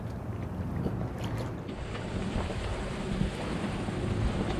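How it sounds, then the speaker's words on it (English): Strong wind roars past a sailboat racing in a bay, a constant loud rush of air and water with gusty buffeting on the microphone. "Well, we found the wind."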